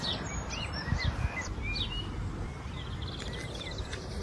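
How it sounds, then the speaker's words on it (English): Several birds chirp and trill in short, high calls over steady outdoor background noise, moderately distant and fairly quiet. "listening to the birds"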